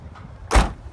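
The powered tailgate of a 2014 VW Passat wagon closes with a single short, solid thud after a faint mechanical whir, heard close up.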